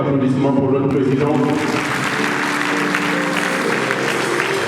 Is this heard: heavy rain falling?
no